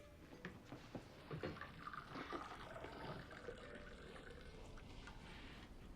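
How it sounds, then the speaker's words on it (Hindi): Water poured into a glass for a guest, a soft trickling fill that is quiet and close and runs for several seconds. "मैं आपके लिए पानी डाल देती हूँ।"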